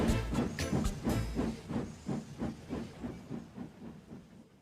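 A steam train engine shunting vans: rhythmic chuffing puffs with hissing steam and metallic clanks, the beats slowing and fading as it moves away.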